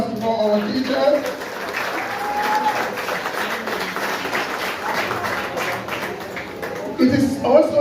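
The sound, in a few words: audience applause for the teachers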